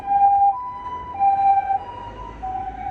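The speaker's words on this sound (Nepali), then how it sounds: "एम्बुलेन्स" An ambulance siren wails in a steady two-tone pattern, fairly close and loud, with faint road traffic rumbling underneath and no talk.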